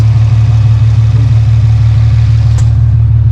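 A 2013 Infiniti G37 sedan engine idles loudly and close by, with a steady low throb and a faint ticking pulse suspected to come from the AC compressor.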